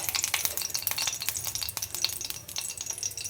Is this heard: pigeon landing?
no